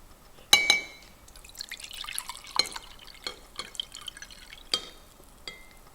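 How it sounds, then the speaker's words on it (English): Water is poured into a glass, with bright clinks and scattered drips and splashes, close and fairly quiet over several seconds. "Okay, so now we get the water, pour it in."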